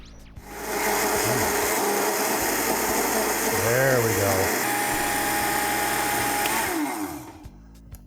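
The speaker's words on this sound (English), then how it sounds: "Let's get the blender ready to go." A blender whirs up to speed blending a sauce of steamed poblano and jalapeno peppers, the motor pitch shifting as the contents churn, then it winds down; someone speaks briefly over it.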